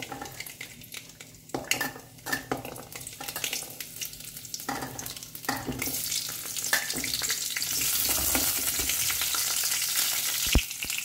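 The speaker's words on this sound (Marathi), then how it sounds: "पयलीं हांव न्ही लसूण आनी चिली हांव मातशें फ्राय करून घेतलें." Garlic and chili sizzle in a little oil in a home kitchen pan, with utensil stirs and scraping clinks over a steady hiss that grows louder and fuller toward the end, alone with no voices.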